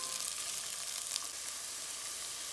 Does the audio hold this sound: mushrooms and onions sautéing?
yes